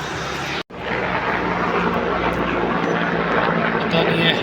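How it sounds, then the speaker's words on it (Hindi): A helicopter flying low and close over a quiet street in Delhi Cantt: a loud, continuous engine and rotor roar that briefly cuts out near the start, then builds slightly. "पता नहीं है हेलीकॉप्टर यहाँ इतनी क्लोज क्यों उड़ रहा है"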